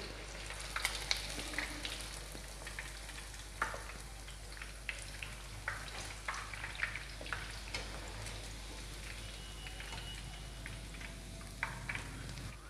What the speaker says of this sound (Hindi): ये देखिए पनीर हमारे अच्छे से तल गए हैं